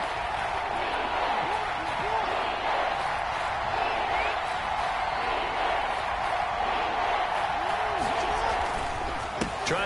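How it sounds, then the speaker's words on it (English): The Arrowhead Stadium crowd in a Madden football video game keeps up a constant broadband roar during a third-and-goal play, with scattered thumps and murmur beneath it. "this is where the Arrowhead crowd can make it very tough."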